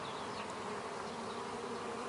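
Honey bees hum steadily around an open hive during a spring hive check, a dense continuous buzz close by with no talking.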